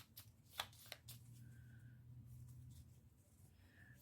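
Tarot cards being shuffled and cut by hand, a few quick riffling flutters and soft slaps close up, quiet, with a low background hum and no talking.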